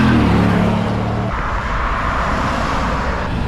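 A 1995 Chevy Camaro 35th Anniversary car driving, its engine humming with a low steady drone that shifts tone partway through, loud and close with road noise and no talk.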